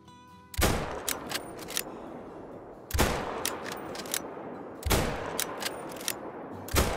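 Three loud rifle shots at a Cape buffalo across 400 yards in The Call of the Wild hunting game, each a sharp crack with a rolling echo, spaced about two seconds apart and heard alone without talk.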